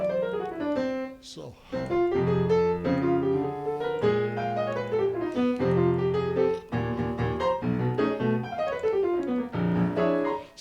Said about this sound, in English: It's called a whole tone scale